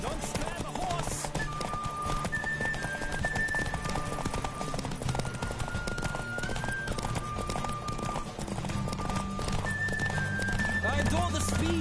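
Horse galloping in The Witcher game, a rapid rhythmic clip-clop of hooves running continuously beneath music and a voice speaking.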